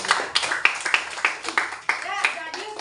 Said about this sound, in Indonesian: tepuk tangan buat Kensi.